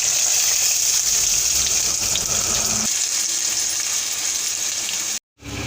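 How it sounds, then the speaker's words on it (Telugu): Onions and green chillies fry in hot oil for a beans tomato curry, giving a steady, close sizzle and crackle that runs almost unbroken before a brief cut near the end; nobody speaks. "ఇప్పుడు ఉల్లిపాయ పచ్చిమిరపకాయలు వేసి వేయించుకుందాం"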